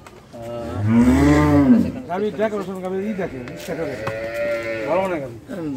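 A high-yield dairy cow on a Bangladeshi farm gives one loud, long, low moo near the start, followed by people talking close by.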